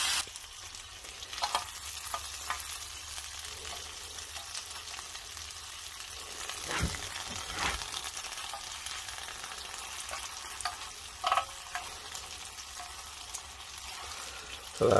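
Breakfast food sizzles and fries in a pan over an outdoor cooking setup, a faint steady crackle with occasional louder clanks and bumps of the pan.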